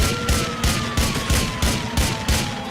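Gunshots in GTA IV ring out in a regular series of about eight loud, punchy reports, spaced evenly, close and dominant over a faint background tone.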